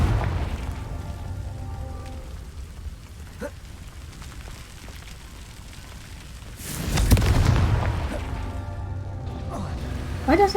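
A fiery blast spell from a wizard video game erupts once near the middle, a short loud burst with a rumbling tail over quiet game ambience, with a voice talking around it.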